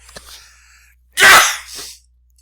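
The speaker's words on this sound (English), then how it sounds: "excuse me, I've got to sneeze." A single loud sneeze bursts out after a short, quiet intake of breath, followed by a fainter exhale, close to the listener.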